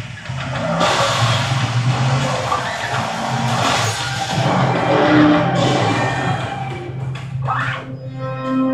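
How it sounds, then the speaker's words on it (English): A truck engine in the video game inFAMOUS Second Son roars and revs continuously, loud and close, with a rising whine near the end. "Truck."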